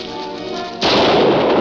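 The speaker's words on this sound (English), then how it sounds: "What's the idea of taking a shot at me?" A single gunshot is fired at a man in a 1943 film serial, a sudden loud blast that cuts into quieter tonal sound and leaves a sustained noisy roar.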